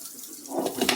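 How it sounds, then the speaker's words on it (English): Tap water runs into a kitchen sink and down the drain after straining shrimp stock, beginning faintly and swelling into a louder close rush of splashing. "So what we do with that is run some water through there right down the drain"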